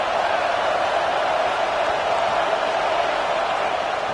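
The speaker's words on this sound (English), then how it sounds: "This crowd bringing the energy and noise early." Dense, unbroken roar of a loud football stadium crowd at an Ohio State versus Texas A&M game, steady and even throughout with no distinct peaks.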